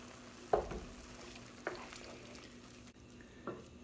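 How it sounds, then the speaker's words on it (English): Chicken mixture with rice wine vinegar, soy sauce, hoisin and sriracha sizzling in a pan for copycat lettuce wraps, a steady low sizzle with a few brief stirring scrapes. "Then I'm just gonna let this cook until this liquid kind of evaporates out of the mixture here."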